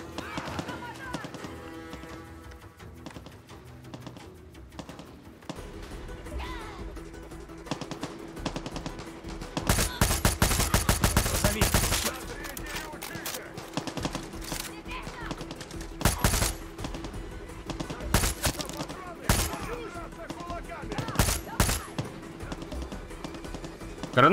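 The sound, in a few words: gunfire in the video game Far Cry 6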